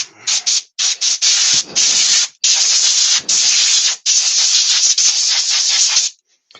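Short bursts of compressed air blowing dust out of timber grain, a loud close hissing that starts and stops in uneven blasts, some brief and some held for over a second.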